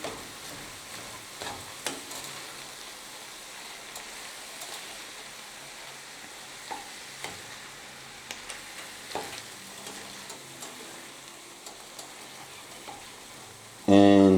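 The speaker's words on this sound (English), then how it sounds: "Sweet Italian sausage should produce enough. Just want to brown this. Okay. Stir this all in." Sweet Italian sausage browns in a pan with no added oil, giving a steady frying sizzle broken by scattered clicks and scrapes of stirring, close and alone until a brief loud knock at the end.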